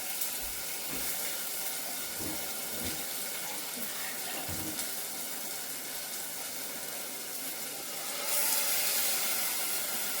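Water runs from a kitchen tap in a steady stream while being collected, with the flow shifting slightly near the end, heard close and alone.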